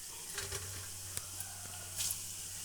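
Eggless fritters shaped like eggs frying in hot oil, a quiet steady sizzle with a few brief crackling pops.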